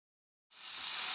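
Mushrooms and spices for a mushroom curry hitting a hot pan, a sudden bright sizzle that starts after a half-second of silence and swells into a steady hiss.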